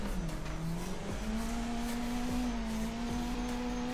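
Two cars tandem drift in the Torque Drift racing game, played with a steering wheel, engines droning steadily with shifting pitch while tires squeal through long continuous slides, with no talking.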